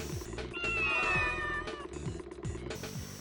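Cats meow in a video game set in a parking lot, with one drawn-out wavering meow standing out over a looping game soundtrack with rhythmic beats.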